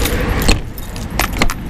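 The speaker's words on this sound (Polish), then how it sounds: "Na czas podróży zamykam przyczepę" Keys jangle while a camper trailer is locked outdoors beside a car, with a few short metallic rattles and clicks close by in two brief bursts over steady background noise.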